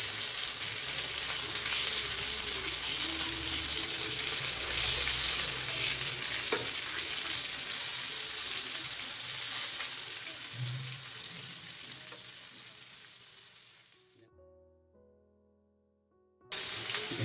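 Lemon chicken fries in a pan with a steady, loud sizzle and occasional stirring, fading to near silence before a brief burst of sound at the end.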